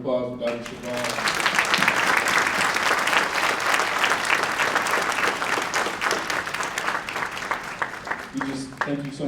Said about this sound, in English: let's have one more round of applause for Dr. Shabazz.